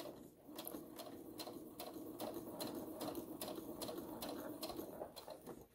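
Household sewing machine stitching a fabric face mask and running a backstitch, its needle mechanism giving a steady fast rhythmic clatter with regular ticking pulses, close and continuous with no talk.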